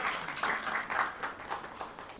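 Audience applause at a golden jubilee ceremony, with a steady, moderately faint patter of many hands clapping at a distance, no voices.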